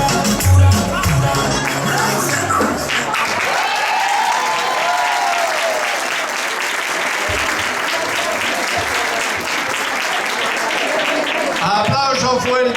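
Loud, sustained applause from a crowd honoring a dance group at an intercultural festival event, dense clapping filling the whole stretch with a brief voice near the start.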